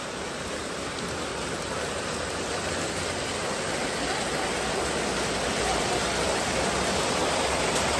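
Floodwater gushes loudly and continuously through a flooded street in the rain, a dense, steady roar of rushing water with no breaks and no voices.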